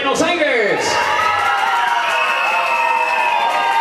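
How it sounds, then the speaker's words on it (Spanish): Audience cheering and applauding at a popular pageant coronation in Arboletes, Antioquia, a steady loud crowd roar with whoops throughout, a sweeping shout near the start. "Y esos aplausos para el representante del corregimiento de Buenos Aires."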